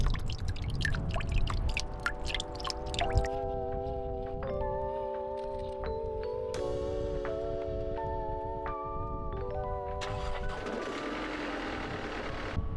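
Coolant drains from a van engine's cooling system with gurgling, trickling and splashing that shift in pitch as the flow changes, steady throughout and fairly close, with no talking.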